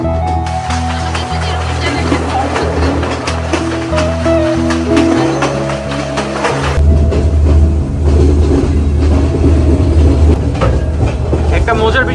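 A train rolls from Nuwara Eliya toward Ella in Sri Lanka, its steady rumble and rhythmic carriage noise continuous and close throughout, with a low hum shifting midway, and no one speaking over it.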